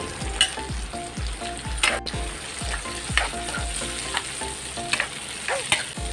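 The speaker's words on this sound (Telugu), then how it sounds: "ఆవాలు జీలకర్ర బాగా వేగాలి" Mustard and cumin seeds sizzle and crackle in hot oil, with sharp pops bursting every fraction of a second over a steady frying hiss, close up.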